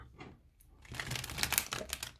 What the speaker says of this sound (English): These are the worst cards to shuffle because they're so shiny.